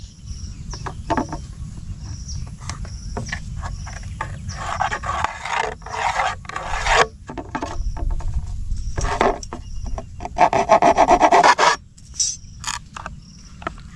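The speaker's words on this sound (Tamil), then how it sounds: "நான் இன்னொரு பீஸ் வந்து வெட்டி எடுத்துக்கிறேன்" A handsaw cutting a wooden piece to shape a boomerang: rough, rasping strokes come in irregular bursts, close and fairly loud, over a low background hum, with no speech.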